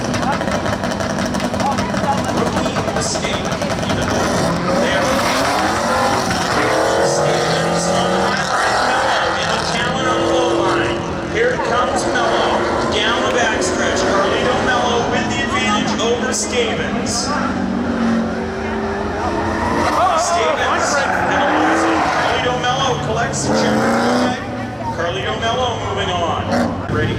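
Race cars roar through spectator drag runs at Seekonk Speedway, engines droning and sweeping past continuously beneath a track announcer calling the action over loudspeakers.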